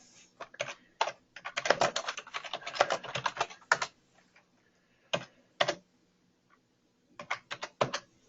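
A computer keyboard clatters close by as an address is typed in uneven bursts of rapid keystrokes, with short pauses between groups of keys.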